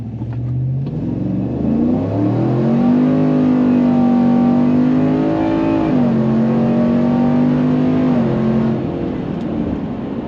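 A 2020 Chevrolet RST pickup with a tuned transmission accelerates hard and loud, its engine note rising steadily, dipping briefly at a gear shift near the middle, then climbing again before easing off.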